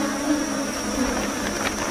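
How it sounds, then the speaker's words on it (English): Swarm of sweat bees in a forest where gorillas live, a steady close buzz of many insects droning continuously around the listener. "Sweat bees,"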